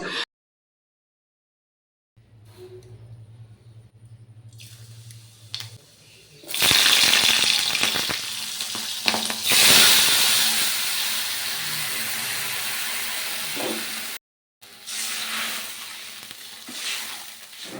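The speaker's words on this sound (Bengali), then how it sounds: "সেই তেলে পাঁচ ফোড়ন আর কাঁচা লঙ্কা দিলাম তারপর তেঁতুলগুলা জল ঢেলে" Panch phoron and green chillies hit hot oil left from frying vadas, then tamarind water pours in, bursting into a loud steamy hiss after a quiet start, with a brief gap near the end.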